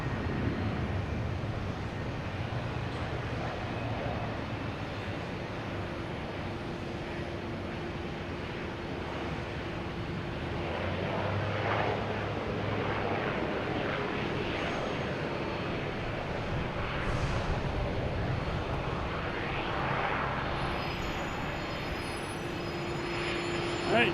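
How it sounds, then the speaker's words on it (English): An American Airlines Embraer E175 takes off at Boston Logan, a broad jet rumble that holds at moderate loudness and swells slightly midway, heard from a distance with some wind noise and no talk. "we have American Airlines at E175 heading to LaGuardia. Flight 4430."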